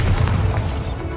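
Bombarda blasting spell striking a stone wall in the Hogwarts Legacy video game, a single loud, heavy boom with a rumbling burst that fills the whole short moment.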